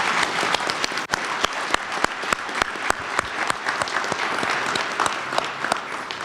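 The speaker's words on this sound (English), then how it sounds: "let's give them a nice round of applause again" An audience breaks into sustained applause at a ceremony, dense clapping from many hands holding steady throughout with sharp individual claps standing out.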